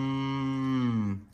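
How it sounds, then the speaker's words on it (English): A single drawn-out moo from a cow, low and steady for about a second before trailing off, heard clearly and alone. "Was that a cow?"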